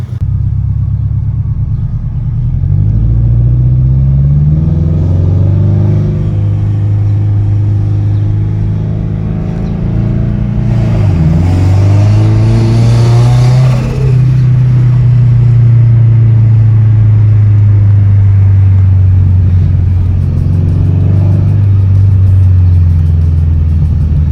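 Toyota FRS with a freshly built engine on a test drive, the exhaust droning steadily up close and climbing through several revving pulls as it shifts gears, loud and continuous for the whole stretch.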